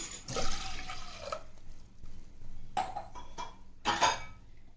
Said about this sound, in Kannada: ಬೇಳೆ ಹಾಕಿ ಇದಕ್ಕೆ ಸ್ವಲ್ಪ ನೀರು ಸೇರಿಸ್ಕೊತಾ ಇದ್ದೀನಿ